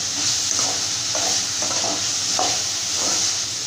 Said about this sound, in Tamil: மஞ்சள் ஆட் பண்ணி நல்லா இந்த மாதிரி வதக்கிக்கலாம்